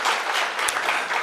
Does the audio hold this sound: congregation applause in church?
yes